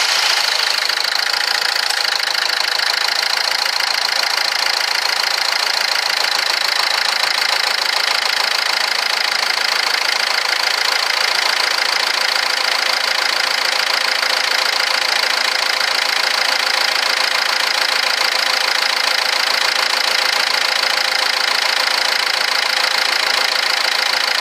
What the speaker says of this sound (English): The air conditioning is turned on in this car. That's why it's making that noise.